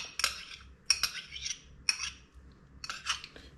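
Soaked oats and brown sugar being mixed in a bowl, giving four brisk scraping, clinking strokes of a spoon spaced about a second apart, close and fairly quiet with near silence between them.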